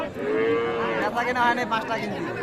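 A calf at the Aftabganj cattle market in Dinajpur gives one long, drawn-out moo close by, rising and wavering, with market chatter faintly behind.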